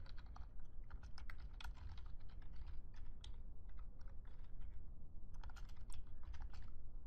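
Rapid, uneven keystrokes on a computer keyboard as PL/SQL code is typed, with clustered clicks and brief pauses throughout, close and fairly quiet.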